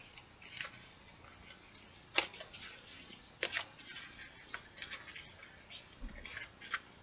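Oracle cards being shuffled by hand, giving soft scattered riffles and light flicks with one sharp snap, faint and close in a quiet room with no talking.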